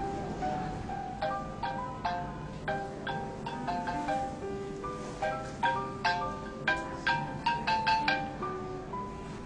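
A phone ringing with an incoming call from a friend, playing a bright melodic ringtone of repeated chiming notes in a steady rhythm, fairly close and clear, with no voices over it.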